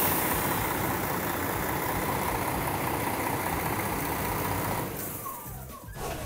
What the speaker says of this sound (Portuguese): deixou o motor ligado